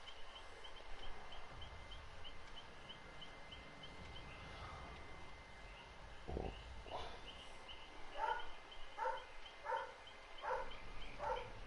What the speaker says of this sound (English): apparently my dog is barking his head off for some reason